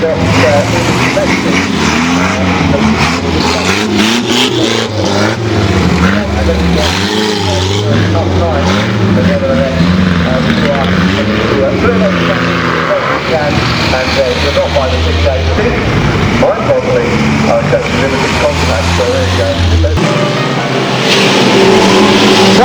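Banger race cars racing at Arlington Stadium, a loud continuous mix of engines revving and roaring together with shifting pitch, crowd-like background noise and an announcer's voice running over it.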